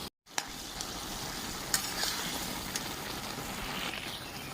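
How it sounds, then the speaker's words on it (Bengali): Bottle gourd and prawn curry stirred in a pan, a steady close sizzle with scraping spoon strokes throughout, no talk. "ঢাকাটা খুলে একটু নেড়ে নিচ্ছি"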